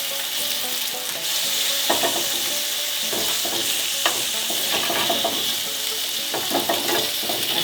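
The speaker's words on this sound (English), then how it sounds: "Can already see the grease rendering away from the bacon." Bacon frying in a warmed pan with grease rendering, a constant loud sizzle and crackle with occasional scraping or shifting of the strips, no voices.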